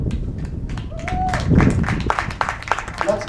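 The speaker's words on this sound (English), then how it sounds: "Let's give all our players and their parents a big round of applause." Applause for baseball players and their parents at a ball game, a steady patter of clapping hands carrying on under a voice over the speakers.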